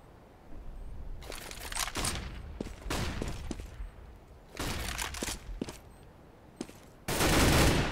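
Gunfire in a Counter-Strike match on de_cache: rapid bursts of automatic rifle fire in several clusters with brief lulls between, crisp and loud, ending in a dense close burst.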